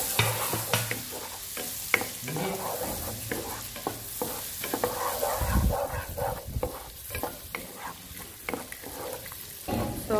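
Chopped garlic and onion sauté in a hot pan, a steady sizzle and crackle broken by repeated scraping stirs of a utensil, close and continuous without any voices.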